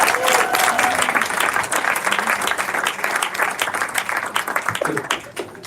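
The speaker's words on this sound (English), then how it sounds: "Round of applause." Wedding guests at Rianne and Avneel's ceremony break into applause, a lively burst of clapping with scattered cheers and voices that gradually thins toward the end.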